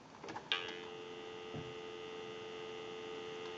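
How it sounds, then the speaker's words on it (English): A steady dial tone hums on the line of a wooden crank wall telephone converted for modern service, starting after a brief click and holding at an even, moderate level. "We'll go ahead and give you some dial tone"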